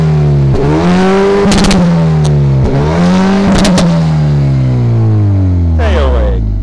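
A Hyundai i30N Performance, a 275-horsepower hot hatch, has its engine revved repeatedly while stationary. Loud rising and falling blips crackle and pop on the overrun, with a voice briefly audible between revs.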